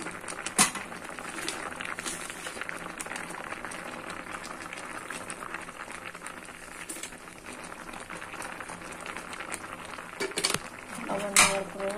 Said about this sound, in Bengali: দিয়ে দেওয়ার পর নেড়ে চেড়ে দিতে হবে